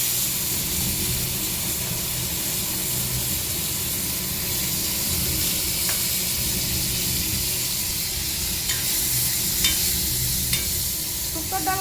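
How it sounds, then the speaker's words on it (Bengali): Boiled papaya fries in a pan with cumin, dry chilli and bay leaf, a loud, steady, close hiss of sizzling oil throughout with a few faint scrapes of stirring. "এই যে সিদ্ধ পেঁপেটা দিয়ে একটু ভেজে নেবো।"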